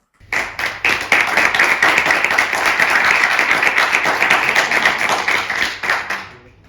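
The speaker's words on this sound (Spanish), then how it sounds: "Pues, un aplauso para Mar." Studio audience applause for a guest at the close of a podcast recording, a dense burst of clapping starting abruptly and holding steady for several seconds before tapering off.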